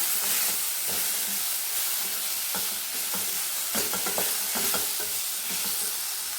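Cooked yam and raw plantain get stirred in a hot pan, with a steady sizzle and hiss under repeated scraping stir strokes and soft clacks that come close together, near and fairly loud.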